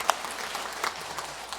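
A church congregation applauds its choir after a hymn. The steady, moderately distant clapping spreads through the room and blends into a continuous patter with a few sharper individual claps.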